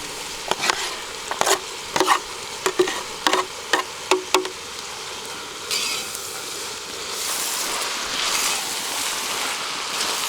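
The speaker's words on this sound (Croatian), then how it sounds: "je vrijeme da dodam luk i da njeg počnem pržiti" Chopped onion sizzles in a pan where beef heart was just fried for goulash, a steady close crackling hiss with several sharp clatters of stirring early on.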